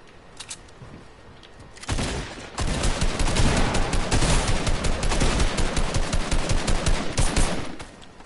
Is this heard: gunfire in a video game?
yes